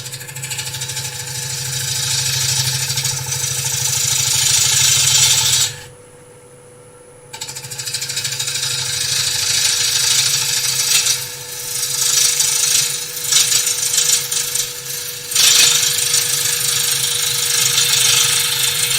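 A wood lathe spins a carved bowl, giving a loud steady motor hum and tool scraping against the wood, with a brief drop to near quiet as the cutting pauses before the noise resumes.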